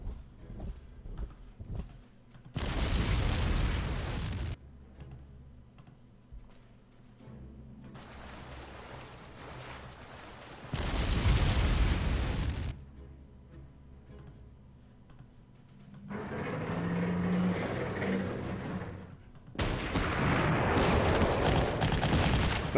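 Anti-tank cannon fire blows up bunkers in the World War II strategy game Panzer Corps, heard as several separate bursts of loud, booming explosions and gunfire, each lasting a few seconds with quiet gaps between them.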